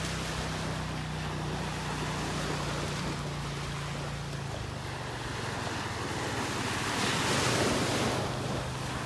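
Ocean surf washes onto a beach in North Naples, Florida, a continuous broad roar with gentle swells and wind buffeting the microphone, a low engine hum underneath, no voices.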